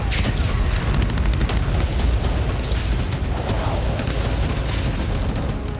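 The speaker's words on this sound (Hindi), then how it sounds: "खेरसोन में रूसी सेना ने X-39 मिसाइल से हमला किया।" Missile strike explosion from a Russian X-39 missile hitting a building in Kherson, a dense, sustained rumbling blast with heavy low-end roar that stays loud and continuous throughout.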